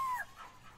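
A virtual dog in a VR family game lets out a short whimpering yelp followed by soft panting, brief and close, with no talking.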